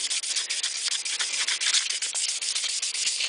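Fine 600 grit sandpaper rubs back and forth across a flat metal surface during polishing, a close, brisk, rhythmic scratching with quick repeated strokes and no talk.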